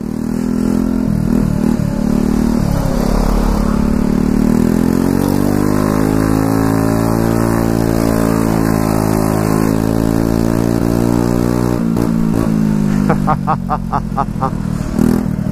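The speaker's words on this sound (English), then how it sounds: "4-stroke 50cc moped with a straight pipe" A straight-piped four-stroke 50cc moped engine runs loud and close, droning steadily with a raspy, buzzing exhaust, then blips a few quick revs near the end.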